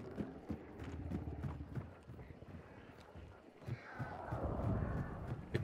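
Horse hooves clip-clop in a steady quick rhythm in the video game Hunt: Showdown, mixed with a whinny and game ambience, fairly faint and close.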